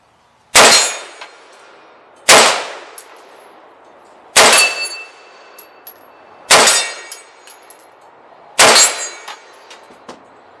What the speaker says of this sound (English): I'm gonna shoot those 55 yarders up there.